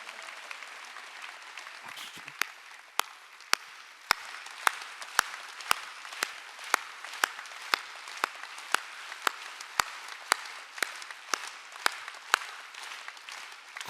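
A church congregation at a Sunday worship service claps in a steady unison rhythm, about two sharp claps per second over a soft crowd wash, heard from some distance at modest volume for around fourteen seconds.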